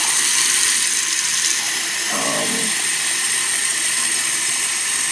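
Tap water runs into a sink basin with the drain plugged so it fills up, a steady close hiss throughout with a slight low gurgle midway.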